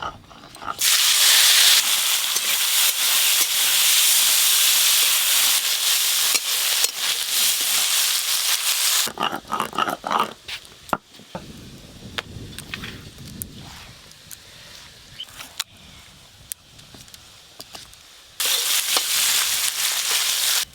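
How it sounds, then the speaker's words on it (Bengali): Loud, steady sizzling of prawns frying in hot mustard oil, with a stretch of clattering stirring in the middle before the hiss resumes. "এবার চিংড়ি মাছগুলো ভেজে নেব।"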